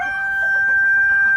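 Native chickens on a farm, a rooster crowing in one drawn-out call that carries up close over faint background clucking.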